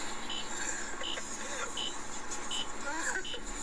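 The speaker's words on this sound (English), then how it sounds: "What's that beeping sound?" A short electronic beep from a radar detector repeats at a steady rhythm over the constant drone of a moving jeep.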